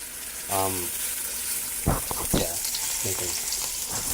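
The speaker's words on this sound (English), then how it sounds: "Making some steak and cheese, don't mind the mess." Steak and cheese frying in a pan, a steady close sizzle running throughout, broken by a few brief clattering knocks, with someone talking over it.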